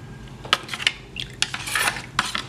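A spoon stirs salt and pepper into aam panna, giving quick metallic clinks and scrapes against the vessel, irregular and close, with a short swirling rush near the end.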